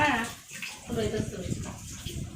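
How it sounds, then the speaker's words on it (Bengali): Chicken meat being washed with water in a home kitchen before cooking dum biryani, with running, splashing water close by under a voice speaking over it. "এই দেখো মাংস ধুতেছে।"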